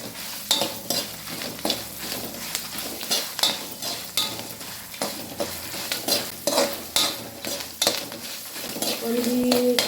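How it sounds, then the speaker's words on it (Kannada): Garlic and onion fry in a pan for a Mangalore-style recipe, with a steady sizzle punctuated by regular scraping strokes of a spoon against the metal, close and fairly loud, with a brief voice near the end. "ಕಿನ್ಯ ಬೆಳ್ಳುಳ್ಳಿದ ಕಂಡೆ ಬೊಕ್ಕ ಒಂಜಿ ಕಿನ್ಯ ನೀರುಳ್ಳಿ ಬೊಕ್ಕ ಬೇವ್ರೆ ಒಂದು ಮೂಜೆಯನ್ನು ಕಾಡ್ದು ಫ್ರೈ ಮಲ್ತೊಂದುಲ್ಲೆ ಒಟ್ಟಿಗೆ ಫ್ರೈ ಮಲ್ತದ"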